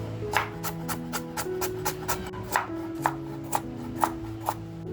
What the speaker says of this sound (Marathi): गाजर बटाटा त्याच्यानंतर बीट हे असं छान आपल्याला कापून घ्यायचंय आहे